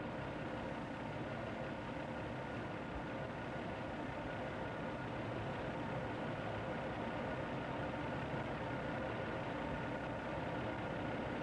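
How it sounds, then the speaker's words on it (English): A car with automatic transmission idles steadily, its engine giving a constant low rumble and hum with no revving, heard alone from nearby for the full length. "Engine is running."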